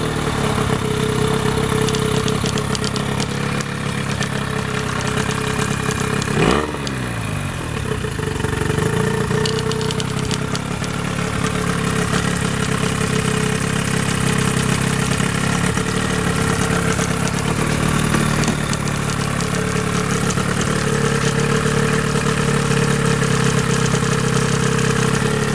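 A 1996 Evinrude 9.9 hp longshaft two-stroke outboard motor runs steadily at idle, a constant buzzing drone with a brief transient partway through, close and loud throughout with no talking.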